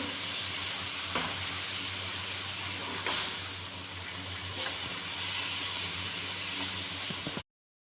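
Crumbled soybean chunks are stirred into a pan of sizzling fried masala for soy bhurji, giving a continuous close frying hiss broken by scraping stirs and a few sharper clicks of the spoon, ending abruptly.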